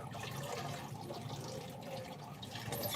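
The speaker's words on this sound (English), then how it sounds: "the first thing I'll do is go in with some water" Water is poured onto fish to season it for Nigerian cooking, a soft steady splashing trickle that runs continuously at close range and low volume.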